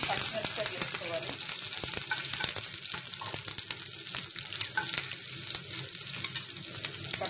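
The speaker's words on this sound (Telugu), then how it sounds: "ఆయిల్ వేడెక్కిన పచ్చిమిరపకాయ వేసుకోవాలి." Green chilli and ginger paste frying in hot oil in a pan, a loud, continuous close sizzle with crackling spatter and stirring, and no talking.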